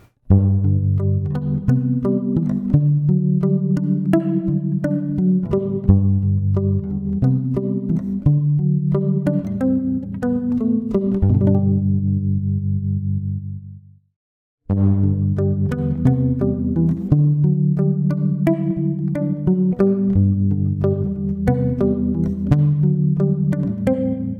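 Muted, plucky electric guitar notes with short decay, damped by a single rubber weave at the bridge, play a melodic line, pausing briefly before resuming; close and clear with no talking.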